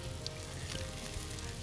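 Banana slices frying in a pan, a steady, close crackling sizzle of hot oil that runs evenly throughout without any voices.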